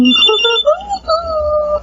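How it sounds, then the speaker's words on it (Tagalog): A mobile phone rings with a bright, repeating electronic melody that sits close and loud, holding steady for about two seconds with no talk over it. "May tumatawag sa cellphone ko."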